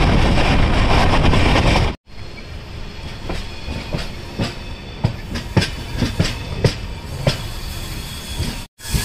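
The Cholan Superfast Express runs at speed between Kumbakonam and Tiruchirappalli Junction, a loud roaring rush with repeated clickety-clack wheel beats over rail joints, one sharp break in the noise early on, then a steady rhythmic rattle.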